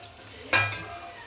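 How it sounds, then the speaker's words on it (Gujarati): Green capsicum tipped into a pan with half-cooked onions for Chinese pasta gives a short, loud burst of sizzling and stirring that quickly settles into a softer frying hiss. "હવે આપણે નાખશું આપણું લીલું કેપ્સિકમ"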